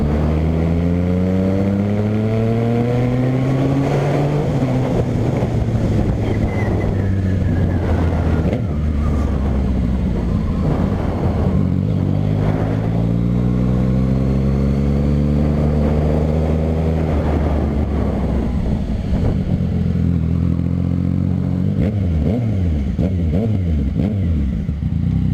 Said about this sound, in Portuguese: Tô andando agora sem o DB Killer.